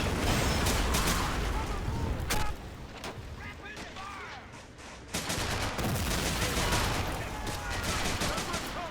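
Mortar blasts and dense gunfire in a Pacific war video game mod set during a Marine amphibious assault on Tarawa, with continuous loud volleys and rapid shots, near and relentless, easing slightly midway before surging again.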